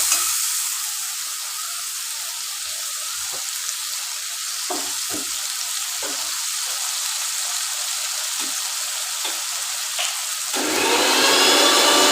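Ginger paste frying in a hot pan for a prawn and banana-flower dish, a loud, steady broadband sizzle throughout that swells louder near the end as it hits the oil.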